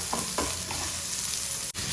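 Chicken pieces sizzle in a pan with sauce, with a few scraping stirs near the start and a sharp clack toward the end, steady frying throughout.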